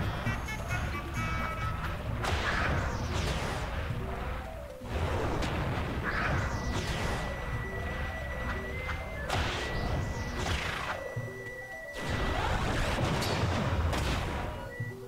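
Explosions and combat effects from the video game Final Fantasy Crystal Chronicles, several loud booming thuds and crashes over layered game music and tones, dense and continuous, with a brief dip in the middle.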